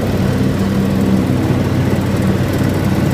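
A John Deere X724 4WS lawn tractor blows cut grass into a windrow, its engine droning steadily and loudly at constant speed close to the microphone, with no voices.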